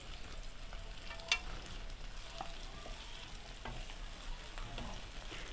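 Onions and tomatoes sautéing in a pan for an egg khagina, a soft continuous sizzle with occasional stirring clicks and scrapes, fairly quiet and close, with no voices.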